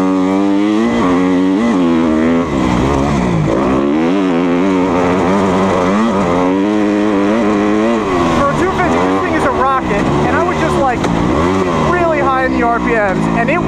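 The engine of a 2020 Kawasaki KX250F dirt bike revs up and down repeatedly in loud, wavering sweeps, climbing high into the rev range. A voice seems to be mixed in with the engine noise.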